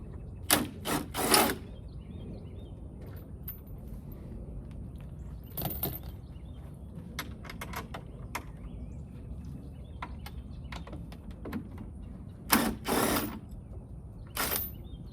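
Bolts are loosened on a C8 Corvette with a ratchet wrench, giving bursts of quick metallic clicks near the start, middle and end, separated by scattered lighter ticks over a low background hum.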